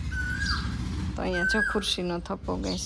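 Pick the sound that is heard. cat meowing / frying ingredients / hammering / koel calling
koel calling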